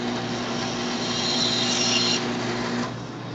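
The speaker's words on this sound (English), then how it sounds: "as you are cutting with the bandsaw" A band saw runs through a cut, giving a continuous, even mechanical whine and hum up close that stays steady throughout before easing slightly at the end, with no voices.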